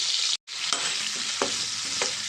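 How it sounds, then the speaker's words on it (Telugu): Pieces of ivy gourd fry in hot oil with a steady broadband sizzle, broken by a brief dropout near the start and a few soft stirring scrapes and clinks over the constant hiss. "ఇప్పుడు ఇదే ఆయిల్లో నేను దొండకాయ ముక్కలను కూడా వేసేసుకుంటున్నానండి"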